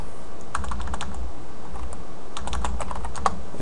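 Keys clatter on a computer keyboard as a short terminal command is typed, two quick bursts of close, crisp keystrokes separated by a brief pause.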